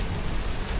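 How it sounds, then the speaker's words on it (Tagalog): Heavy rain pours down as a dense, steady hiss, loud and continuous with no voices. "grabe yung ulan"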